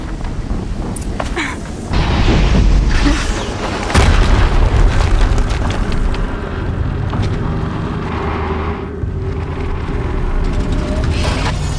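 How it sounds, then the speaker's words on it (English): Explosions in the Horizon Zero Dawn video game, heavy booms landing around two and four seconds, each followed by a sustained loud rumble of debris and machinery, with no talk. "Another explosion."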